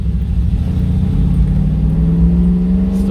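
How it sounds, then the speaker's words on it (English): A 1973 Range Rover Classic engine runs close by with a steady low rumble, its pitch rising gradually as it revs while driving, with no talk over it. "Listen to that. That's how a car should sound."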